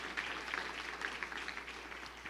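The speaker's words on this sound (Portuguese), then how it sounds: "você vai aplaudir forte o nome de Jesus" Scattered applause from a church congregation in Piracicaba, faint and somewhat distant, a soft continuous patter of many hands with no clear speech on top.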